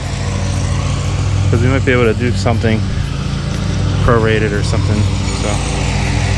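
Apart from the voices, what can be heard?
lawn mower running nearby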